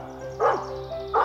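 A rescue dog barks during search training, two sharp separate barks spaced under a second apart over a steady low background hum.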